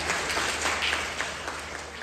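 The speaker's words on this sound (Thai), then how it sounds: "ขอเสียงปรบมือด้วยครับ" Delegates at a Palang Pracharath Party meeting applaud after General Prawit is voted party leader with 383 votes, a steady wash of clapping throughout.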